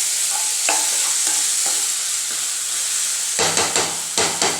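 Masala with chili and turmeric powder sautéing in oil, a steady loud hiss of frying with a few knocks and a burst of quick spatula scrapes near the end, close and without talk.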